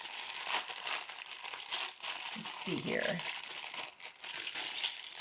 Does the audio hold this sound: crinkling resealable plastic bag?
yes